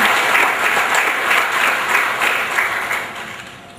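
Applause from an audience honouring an alumni association at a college event, a dense steady clapping that carries through and tapers slightly toward the end, with no voices over it.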